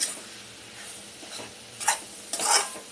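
Malvani seafood chutney being sautéed and stirred in a pan, a soft steady sizzle with two short scraping bursts of the spoon against the pan near the end, no talking.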